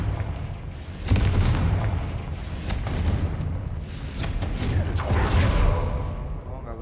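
Booming blast from a Confringo fire spell in Hogwarts Legacy, a loud rumbling explosion with a sustained roar and a second swelling burst, heavy low-end rumble throughout.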